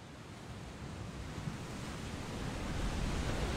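Ocean waves in the video game Final Fantasy XVI roll as a loud, continuous broadband wash of surf and wind that slowly swells, with no voices over it.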